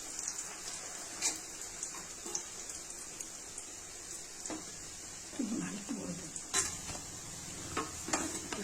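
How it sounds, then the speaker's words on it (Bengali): Chhana (paneer) koftas fry in hot oil, a soft continuous sizzle with occasional light scrapes and clicks as they are turned. "হ্যাঁ, এরকমই ভাজাটা ভালো হবে।"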